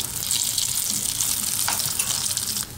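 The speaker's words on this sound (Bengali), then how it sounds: "আগে নাগেটসগুলো ভেজে নেই।" Ready-made chicken nuggets fry in hot oil at home, a steady close sizzle and bubbling hiss that runs unbroken the whole time with a few small pops.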